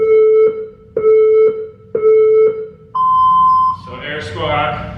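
Electronic interval workout timer for a home bodyweight session, sounding three short steady beeps about a second apart, then a longer higher-pitched beep, followed by noisy movement and a voice.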